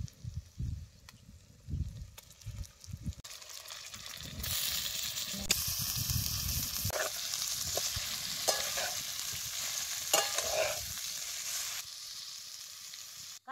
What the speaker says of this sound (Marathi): कारले बी त्याला चांगलं भाजून घ्यायचं